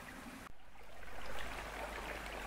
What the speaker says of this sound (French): vous voyez ça coule, et puis ça fait une petite retenue d'eau en bas